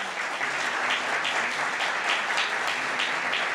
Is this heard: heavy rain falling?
no